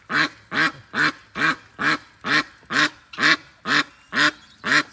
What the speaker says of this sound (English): That's Rebel on the left there, quacking at us.